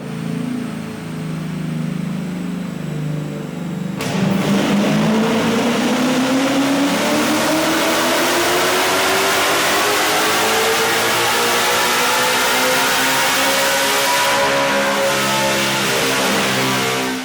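Naturally aspirated Ford Mustang S650 with a 2018 Cobra Jet intake manifold and throttle body adapter revving hard through a full dyno pull, a loud, steady engine roar climbing in pitch for about ten seconds before holding at high rpm.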